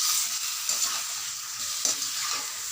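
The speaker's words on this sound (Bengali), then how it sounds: "ভালো করে মাংসটা কষবো।" Chicken pieces sautéing in oil in a pan give a steady, close sizzling hiss, broken by a few louder scrapes and stirs, with no talking.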